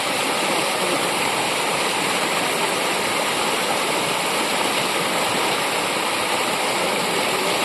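The Anjana river, swollen after heavy rain, rushes past close by with a loud, steady roar of flowing water that never lets up.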